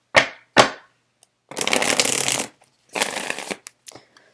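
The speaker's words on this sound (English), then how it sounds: "So I'm going to shuffle the cards" Tarot cards are shuffled close by: two quick riffling snaps, then two longer, dense riffle shuffles separated by a short pause, ending with a few light taps and flicks, with no voices.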